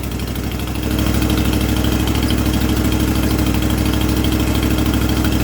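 A New Holland GT1 tractor engine idles loudly and steadily with a rhythmic low chug, rising slightly in level after the first second and holding steady.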